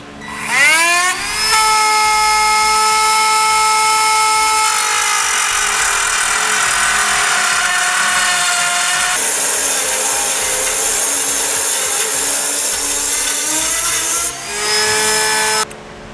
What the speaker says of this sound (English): I'll be using a rotary tool to do this.